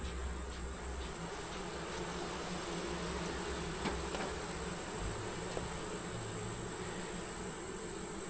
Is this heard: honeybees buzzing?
yes